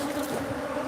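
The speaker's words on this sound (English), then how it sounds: "these are Africanized bees" Africanized bees buzz in a dense, steady drone from a swarm close by, continuous and fairly loud with no talk.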